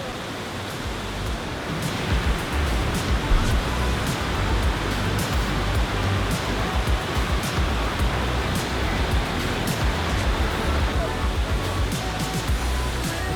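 Pennsylvania waterfall, a loud, steady broadband rush of falling water running continuously throughout.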